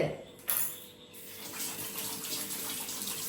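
A tap runs in a steady, close-up stream after a brief knock at the start, with the flow continuing evenly throughout.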